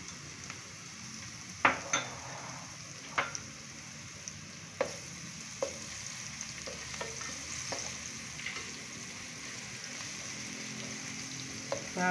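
Garlic and ginger fry with browned onions in a pan for masala rice, producing a soft, steady sizzle broken by scattered spoon scrapes and stirring clicks, fairly quiet with no talking.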